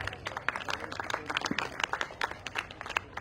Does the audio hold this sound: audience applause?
yes